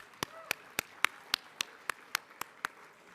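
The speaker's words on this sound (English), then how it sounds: "Let's give them another round of applause" Ten sharp, evenly spaced claps in a steady rhythm ring out clearly in a conference hall during a general session, like a crowd clapping in unison, with no talk over them.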